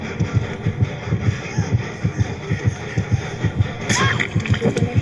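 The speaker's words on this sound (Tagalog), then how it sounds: "Ang lakas na ng heartbeat." A pounding heartbeat effect in a driving video game throbs in a steady rapid rhythm, loud and close, with scattered game noises and a brief sharp hiss near the end.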